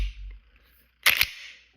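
Two sharp mechanical clicks about a beat apart from a Glock pistol's trigger being pressed and reset in dry fire, close and crisp after a brief quiet stretch.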